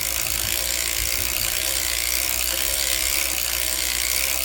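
A circular sock knitting machine being cranked, its ratcheting mechanism giving a steady, continuous clicking whir at close range throughout, with no talking.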